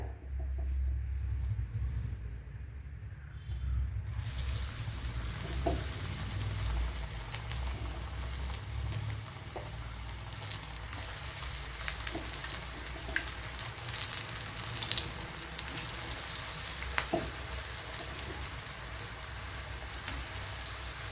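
Breadfruit dough drops into hot oil and fries with a dense, steady crackling sizzle that starts abruptly after a few seconds of low background hum and carries on, close and even, with occasional sharper pops.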